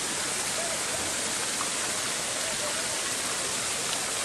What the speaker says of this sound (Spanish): Vean la cantidad de agua que está llegando por este sector de Solidex.